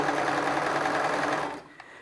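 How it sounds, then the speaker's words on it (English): A sewing machine stitches clear elastic at a slow, even pace, its needle humming in a close, steady whir for about a second and a half before stopping, followed by a faint click. "now we're going to slowly stitch."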